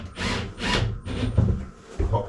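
Screws are driven into a wooden panel inside a boat cabin, giving a few close, grinding bursts of rotation separated by short pauses.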